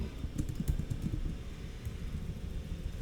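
Quiet, rapid clicking of keys being typed on a computer keyboard, a soft continuous patter heard alone.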